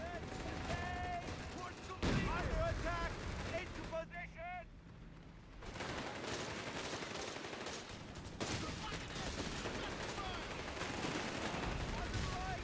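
Gunfire and explosions from battles in the World War II strategy game Company of Heroes 3 crackle and thud in dense bursts, with shell impacts mixed in, under continuous talk from commentators.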